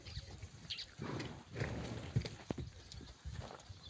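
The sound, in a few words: horses, mares and foals moving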